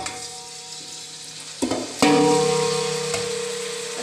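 Raw chicken pieces hit hot oil in a pan for chicken pulao, bursting into a loud, steady sizzle with stirring clatter that stays strong and slowly eases off, no talking.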